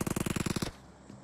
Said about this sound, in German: Daneben hören wir die Schüsse.